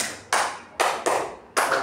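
Four sharp, loud hand claps land in an uneven rhythm during a clapping game at a school community-learning gathering, each a crisp broadband burst with a short decay and no voices between them.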